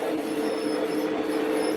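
Lionel model train wheels squeak and hiss continuously on the track, a steady high squealing over a rolling mechanical rumble, fairly close and without talk.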